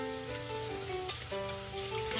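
Finely chopped fresh green garlic sizzles in hot oil tempering, a soft, steady frying hiss with faint crackle, close and fairly quiet, with no talking.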